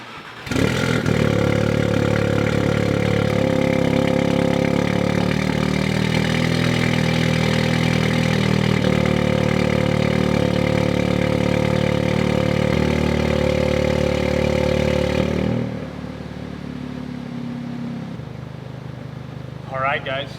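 Audi S3 with a Stage 2+ tune starts up and settles into a loud, steady idle for about fifteen seconds, then drops to a quieter, lower idle, heard up close.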